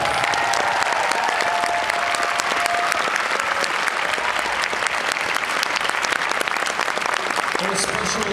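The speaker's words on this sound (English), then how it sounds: "So let's show a round of applause for our PMO staff." An audience gives a sustained round of applause for the staff, dense and even clapping at moderate loudness lasting the whole stretch, with faint voices mixed in.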